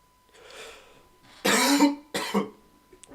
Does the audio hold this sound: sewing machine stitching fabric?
no